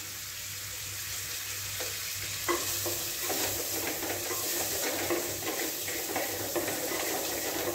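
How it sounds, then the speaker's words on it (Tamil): Asafoetida, curry leaves and onions fry in oil for an ivy gourd gravy, a loud continuous sizzle with scraping stirring strokes and small spatters close by. "ஆட் பண்ணி நல்லா ஃப்ரை பண்ணுங்க."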